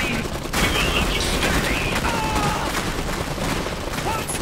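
Gunfire from enemy units in the video game Iron Harvest, a dense, continuous crackle of rifle and machine-gun fire with booms mixed in, loud and unbroken throughout.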